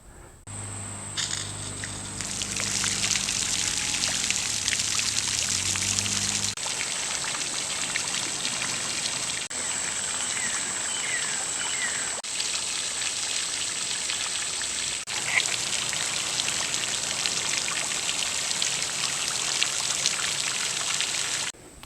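Steady rushing splash of water from a hose pouring onto a pond's surface, continuous and fairly loud, with a brief low mechanical hum at the start.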